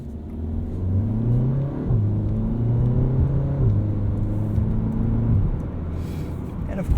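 A 2016 Audi TT 2.0T quattro with S tronic dual-clutch gearbox pulls hard from inside the cabin, the engine note rising and then dropping sharply through three quick upshifts before easing off.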